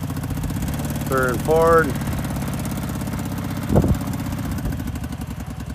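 A 2013 Kawasaki Teryx 750 FI LE side-by-side runs at a steady mid-pitched idle, with a couple of short revs and a brief mechanical clunk, while people talk nearby over the engine.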